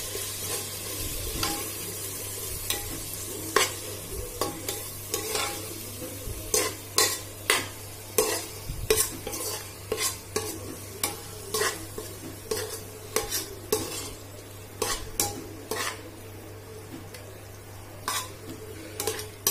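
Chopped tomatoes frying and being stirred in a pan for a black chickpea curry, with a steady sizzle under repeated sharp scrapes and clinks of a spoon against the metal, close and alone without talk.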